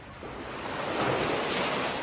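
Ocean waves on a tropical beach, a soft, continuous wash of surf swelling gently louder, heard alone without voices.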